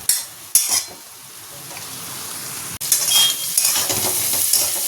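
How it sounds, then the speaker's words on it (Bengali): Potatoes coated in poppy seed paste are stirred in a pan, giving a steady scraping sizzle with sharp utensil knocks near the start and middle, close and fairly loud, with no voices. "পোস্তটা নাড়িয়ে দিলাম"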